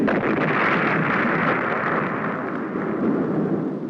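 A missile is destroyed in flight, heard as a sustained rumbling roar of explosion noise that stays broad and heavy for several seconds, fading only slightly toward the end. The recording has an old film soundtrack quality.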